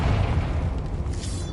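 A Confringo explosive spell in Hogwarts Legacy, a deep booming blast with low rumble that rolls on and slowly fades, followed by fizzing, crackling debris.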